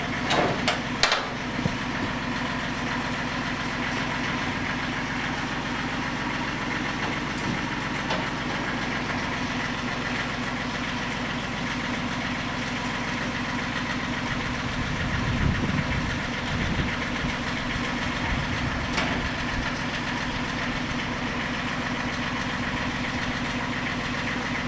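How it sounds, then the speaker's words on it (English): A tractor mower engine runs steadily while mowing along a county road in northern Michigan, a continuous droning rumble with a few knocks and rattles, heard from a moderate distance. "You're mowing that county road."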